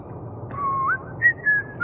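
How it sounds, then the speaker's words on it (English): A short melodic whistle from a character in the video game Starfield, a few sliding pitched notes rising and holding over a low ambient hum, clear and fairly close. "You're whistling the tune"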